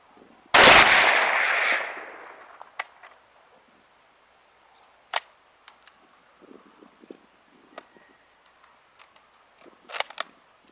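A single sharp 8mm Mauser rifle shot fired at a car hood 300 yards away cracks loudly near the start and decays over a second or two, followed by faint scattered ticks and clicks.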